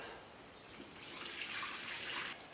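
Green Subaru antifreeze is poured into the radiator of a 1998 Subaru Outback, a soft, steady liquid trickle that swells slightly partway through, quiet and close with no talking.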